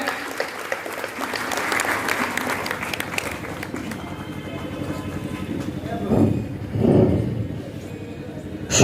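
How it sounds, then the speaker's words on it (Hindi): An audience in a town hall at a private schools' annual function gives a hearty round of applause to welcome a guest, dense clapping that fades as voices and murmurs rise over it. "एक जोरदार ताली से स्वागत करें"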